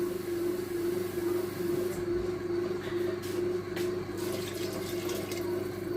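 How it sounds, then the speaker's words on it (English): Liquid poured into a soup pot of butternut squash and bacon, a steady close watery rush with a constant low hum underneath and brief clinks partway through; no talking. "fill that up, and then put enough liquid in to cover it."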